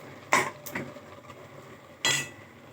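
A utensil stirs mustard greens saag in a cooking pot, making a few sharp metallic clinks and scrapes: two close together, then one more after a pause, against quiet surroundings.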